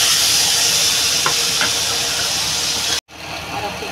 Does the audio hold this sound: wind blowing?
no